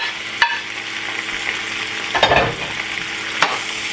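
Meat sizzles steadily in a pan over garlic and onion, a continuous frying hiss broken by a few louder stirring clatters, prepared for Chinese-style rice.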